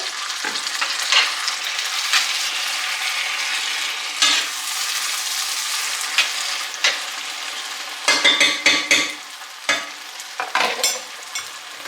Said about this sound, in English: Give it a good stir and let this cook until the meat turns color